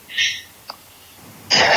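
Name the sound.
sneeze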